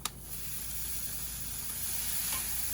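Marinated pork tenderloin laid on a hot Big Green Egg grill for direct grilling sets off a steady, close sizzle after a sharp initial contact, hissing evenly throughout without speech.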